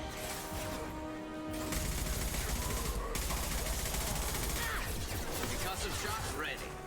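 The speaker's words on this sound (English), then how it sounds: "Firing concussive shot." Concussive shot gunfire in the video game Mass Effect Legendary Edition, heavy blasts and crackling shots layered over constant combat noise while players talk throughout.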